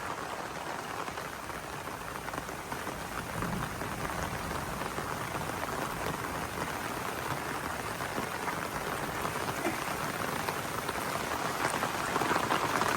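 Heavy rainstorm pours down in the Guangxi mountains around a wooden hut: a dense, unbroken hiss of rain hitting surfaces that stays loud and even throughout.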